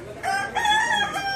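Chickens at an animal market in Dimapur: a rooster crows in short harsh bursts, two or three calls in quick succession, close and loud, with no talk.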